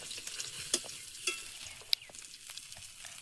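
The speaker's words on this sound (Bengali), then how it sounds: "এবারে ট্যাংরা মাছ আর চিংড়ি মাছ এগুলো সব ভেজে নেব।" Small tengra fish and prawns fry in hot oil in a pan, a soft crackling sizzle with scattered sharp spits and pops, close and moderately quiet.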